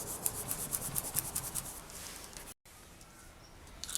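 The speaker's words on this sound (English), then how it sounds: "And then I'm going to burnish it thoroughly." Paper rubbed firmly over liquid polymer clay, a close, steady scraping and rubbing in quick repeated strokes for a couple of seconds, then a brief dropout and quieter soft rubbing.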